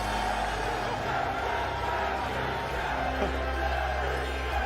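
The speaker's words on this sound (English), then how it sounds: "the crowd goes insane." A large crowd at a Yu-Gi-Oh Championship Series tournament in Indianapolis roars and cheers wildly after an Exodia win, a dense, sustained wall of shouting and whooping that stays loud for the whole stretch.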